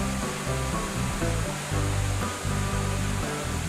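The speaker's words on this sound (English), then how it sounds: "The spectacular Florence Falls cascades into a plunge pool." Florence Falls pours into a large plunge pool, a continuous loud rushing roar of falling water with no voices over it.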